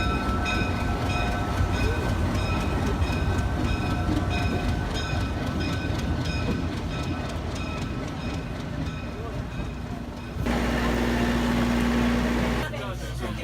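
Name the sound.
train riding along the rails to Machu Picchu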